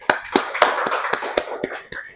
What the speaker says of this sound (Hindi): एक बार खुद के लिए तालियां बजाओ जोरदार